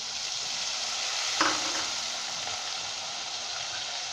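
Beef keema korma base of spices, browned onions and lemon juice being stirred, a steady soft sizzle throughout with one brief scrape of the spoon near the middle, no voices.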